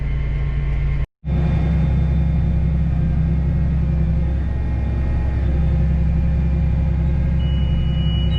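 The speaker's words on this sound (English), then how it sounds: "Truck coming in." A truck rumbles steadily nearby with a low engine drone, heard from inside a farm vehicle during grain harvest, continuous apart from a brief cut near the start.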